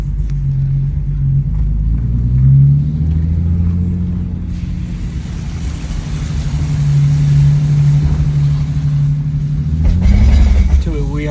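BMW E46 driving with a suspected gearbox or differential fault: a steady low rumbling drone from beneath the car, swelling and easing with speed, with a faint grinding undertone throughout.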